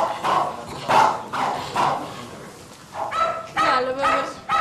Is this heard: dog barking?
yes